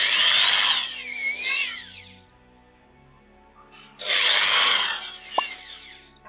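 An electric drilling machine with a 2–2.5 mm HSS bit bores holes into a pipe, whining loudly in two separate bursts with a pitch that wavers as it cuts, and a pause between them.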